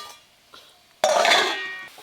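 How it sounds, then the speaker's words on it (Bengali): Marinated bhetki fish pieces drop into a pan of onions fried deep red, giving a sudden loud sizzling burst that fades slowly, after a few faint utensil clinks. "এবার মশলা মাখানো ভেটকি মাছগুলো দিয়ে দেব।"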